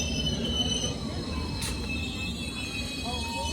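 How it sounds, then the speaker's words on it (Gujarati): A train pulls into a station in the evening with a sustained metallic wheel squeal, steady and fairly close, over a constant rumbling background. "ચલો મારી ટ્રેન આવી ગઈ છે."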